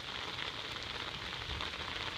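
Rain drumming on an umbrella overhead in a flooded street, a close, dense, even hiss of drops that holds steady and fairly quiet throughout with no voices.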